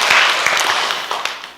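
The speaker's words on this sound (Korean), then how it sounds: "박수 한번 해주세요" A church congregation at a Korean special dawn prayer meeting claps together in a loud, dense burst of applause that slowly fades.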